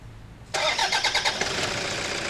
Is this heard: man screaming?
no